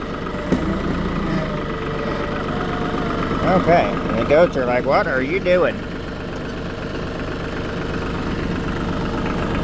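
A tractor engine idles steadily as a low, continuous rumble near a goat pen, with someone talking over it and a brief burst of higher animal calls in the middle.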